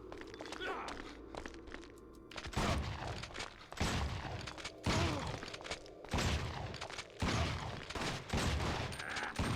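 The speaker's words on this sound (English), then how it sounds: "Thank you for finally shooting." Gunshots in Resident Evil Outbreak File 2, several loud, sharp bursts arriving in quick succession after a quieter opening, with voices and footsteps in the background.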